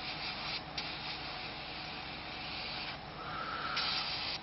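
An airbrush sprays SMS paint in a continuous close, soft hiss that holds steady with slight surges and dips, heard alone without any talking.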